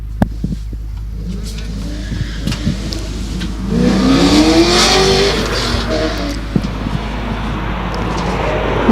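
A Ford Escort race car powers up a hillclimb course, engine note rising and sweeping through gear changes, loud and close mid-clip before easing, with tire noise and crowd-area rumble throughout.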